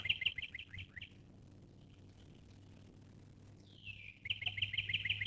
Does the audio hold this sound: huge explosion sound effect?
no